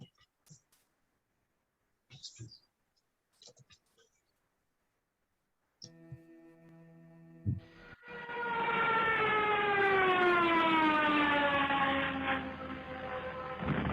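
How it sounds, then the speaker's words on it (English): A plane crash sound effect from a student-made video game: after a few soft clicks and a quiet stretch, a loud, harmonic, siren-like whine swells and holds, its pitch bending slowly. "So that was the plane crash, which the player was just in,"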